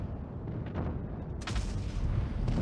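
A tank cannon fires in World of Tanks Blitz, a heavy booming blast over a constant rumbling battle background, with a second louder report partway through.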